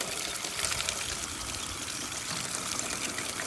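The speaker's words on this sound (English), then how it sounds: "It's leaking right down into that grate that goes down into the basement." Rainwater leaks from a house gutter near a downspout and pours into a basement grate, a steady close splashing trickle that runs on continuously with no voices.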